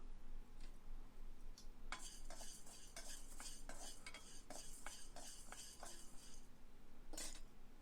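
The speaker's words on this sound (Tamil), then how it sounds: "அதுக்கு அந்த ஒரு கரண்டி கடலப்பருப்பை வறுத்துக்கலாம்." Chana dal dry-roasting in a pan: a spoon scrapes and stirs the lentils, giving a run of quick close scraping strokes over a soft background hiss, with no talk.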